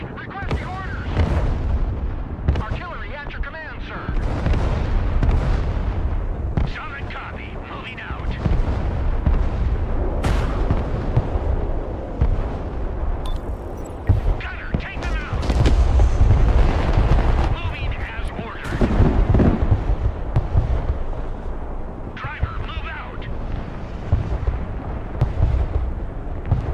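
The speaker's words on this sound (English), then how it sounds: "Artillery engage! Requesting orders! Artillery at your command, sir!" An artillery barrage firing in the video game Broken Arrow, heavy booming blasts rolling continuously over several seconds, with voices talking throughout.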